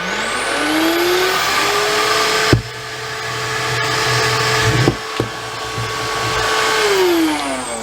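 A SilverCrest SHAZ 21.6 B2 cordless hand-held and upright vacuum cleaner runs with a steady, loud motor whine that ramps up at the start and winds down at the end, broken by a few brief clicks and knocks. No one speaks.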